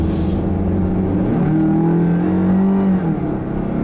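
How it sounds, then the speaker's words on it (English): The raspy four-cylinder engine of a 2010 Toyota Venza rises in pitch as it accelerates, heard steadily from inside the cabin with a droning, strained note and no talking. "the rather raspy engine note that does intrude into the cabin when you get on the gas"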